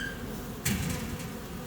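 Bees buzz around an opened hive during heavy pollen patty feeding while honey boxes are stripped off. The hum is faint and continuous, with a brief louder swell partway through.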